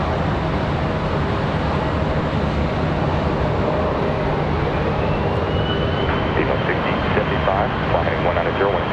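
A jet airliner taking off at Charlotte Douglas airport, a loud continuous engine roar with a rising whine, heard from nearby with a voice talking faintly underneath.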